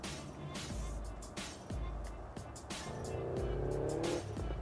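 A rally-prepared Mitsubishi Lancer Evo II or Subaru Impreza WRX STi slides sideways on a circuit with its rear stepping out. A rising engine note and a drawn-out tire squeal are heard over steady car noise, with someone talking through it.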